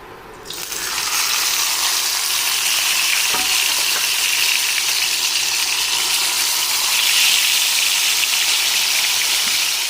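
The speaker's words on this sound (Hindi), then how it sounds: "बस ऑयल से धुआं निकलने लगे और ये तेज़ गर्म हो जाए तो हम इसमें रख देते हैं ये फिश।" Fish frying in smoking-hot oil over a full flame, a loud, steady crackling sizzle that swells after the first second and holds strong throughout, with no talking.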